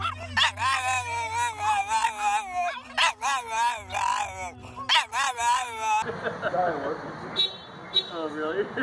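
A dog barks and yips repeatedly up close, then shifts into high, wavering whimpers, with people talking and laughing over it throughout.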